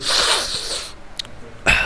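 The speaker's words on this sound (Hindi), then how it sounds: "बाहर लगा के छींकना पड़ेगा" A single loud sneeze from a man teaching a maths lesson indoors, a sharp burst at the start that fades out, followed by a brief nasal sniff near the end.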